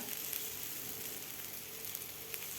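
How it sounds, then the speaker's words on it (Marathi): Besan masala bread frying in a pan, a steady close sizzle with fine crackling spatter throughout, no voices. "दुसरे सुद्धा मी फ्राय करायला ठेवलेले आहेत"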